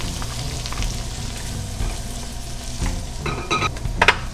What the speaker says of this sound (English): We're going to add our diced onions